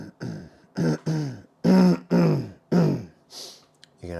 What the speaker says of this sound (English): gonna have to listen to a lot of me coughing